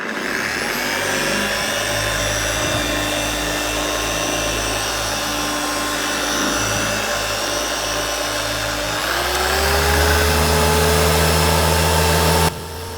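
An orbital polisher works the paint of a Tesla Model 3, starting around 3200 orbits per minute: a loud, steady motor whine and hum that steps up in pitch and force near the end as the speed rises, with no talking.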